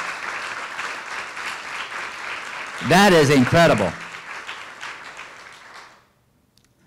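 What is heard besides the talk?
audience applause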